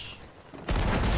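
After a quiet stretch, a sudden loud burst of booming ship cannon fire in the video game Sea of Thieves erupts and keeps rumbling, dense and close, like a volley of shots.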